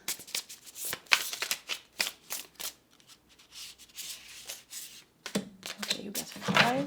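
Tarot cards being shuffled by hand, giving a run of crisp, riffling bursts that stop and start through the clip. The flutter swells near the end, and a voice speaks briefly between the bursts.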